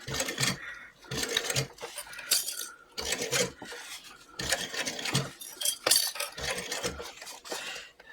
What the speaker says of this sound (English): So I'm doing a little back stitching there